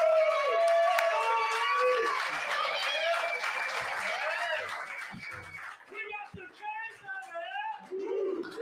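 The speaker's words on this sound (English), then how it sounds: "we got the crowd getting fired up here at Titanic" A crowd at Titanic in Miami, gathered for a live Canes spring game show, cheers and applauds under someone talking, the clapping and shouts strongest at first and then thinning into scattered cheers.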